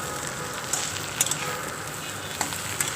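Fried fish and onions sizzling in a pan, a steady close crackling hiss with occasional light clicks and scrapes from stirring.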